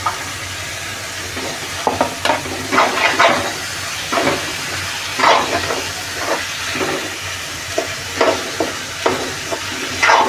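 Onion frying and being stirred in a pan for spicy keema, with a steady sizzle broken by repeated scraping stir strokes at close range, no talk.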